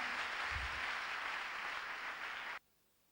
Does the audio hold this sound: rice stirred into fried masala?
no